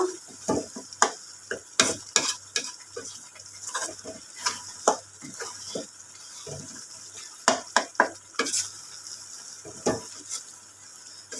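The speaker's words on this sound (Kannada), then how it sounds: "ಇದನ್ನು ಎಣ್ಣೆ ಎಲ್ಲ ಬಿಟ್ಕೊಳೋವರೆಗೂ ಕುದೀಲಿ" Tomato pickle simmers and fries in oil in a pot, giving a continuous low sizzle and bubbling, with a ladle scraping and stirring in repeated clicks throughout.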